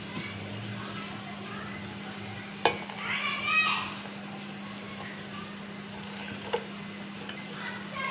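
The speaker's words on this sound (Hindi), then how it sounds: "साथ ही मैं इसमें डाल दूंगी ये सब्जियाँ।" Vegetables go into a hot pan of cumin and water and are stirred. A low steady sizzle carries a sharp knock, then a brief scraping stir, with a few light taps afterward.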